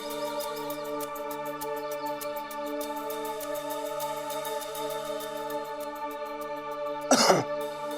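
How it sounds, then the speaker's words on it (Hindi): A single short, harsh cough from a man, a landowner from Malegaon suffering a persistent cough, bursts out near the end over a steady background of sustained harmonium-like music. "खांसी ठीक नहीं हो रही है"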